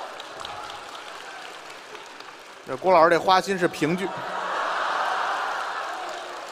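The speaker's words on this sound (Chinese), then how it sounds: "人还鼓掌呢，这一点都不像啊！" Audience applause at a Deyun She crosstalk comedy show: a steady crowd clapping wash fills the room, briefly giving way to a short burst of a man's speech before swelling again.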